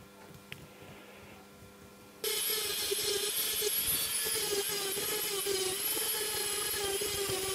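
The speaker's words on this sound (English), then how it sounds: "I was intending to use both burrs, both rubberized abrasives, but I was fortunate enough to get full usage out of this." Rotary rubberized abrasive burr polishing a large boulder opal: a quiet room for two seconds, then the burr starts abruptly with a loud steady whine and gritty grinding that continues to the end.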